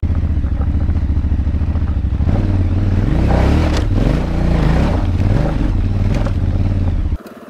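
A motorcycle ridden up through the gears, its loud, close engine drone rising in pitch and dropping at each shift from first into second, the note cutting off near the end.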